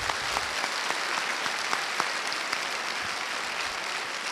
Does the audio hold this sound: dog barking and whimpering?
no